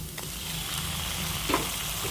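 Beef hisses and sizzles as it goes into a hot pan of browned garlic and onion, with a brief clatter partway through. The frying stays steady and close, and nobody speaks.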